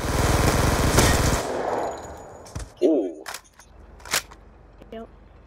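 Gunfire in the video game Call of Duty Black Ops 2 during a one-on-one match, a dense burst of rapid automatic fire followed by scattered single shots and game effects, with people talking.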